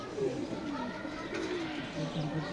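Soft pigeon cooing murmurs on and off beneath steady talking, fairly close by.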